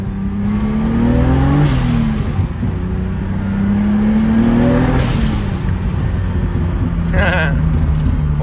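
A BMW E36 turbo running an Audi R8 ignition drives off, its six-cylinder engine revving up through two loud rising pulls with whining turbo and a brief chirp, close and strong, with a voice briefly in the background.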